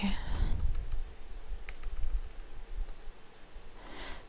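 Soft, scattered keyboard clicks of someone typing, faint under low background noise.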